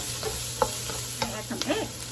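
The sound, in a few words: stirring red onion and carrot for fried rice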